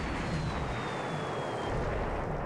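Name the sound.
Japanese bombing raid in video game War in the Pacific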